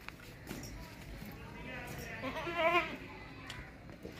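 A young sacrificial goat at a livestock sale gives one short, wavering bleat near the middle, fairly close, over a low murmur of background voices and farmyard noise.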